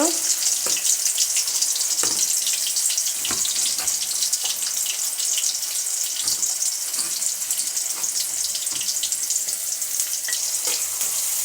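About a cup of onion fries in oil in a pan for a chickpea curry, giving a steady, dense, close sizzle with crackling that lasts the whole time and has no talk over it.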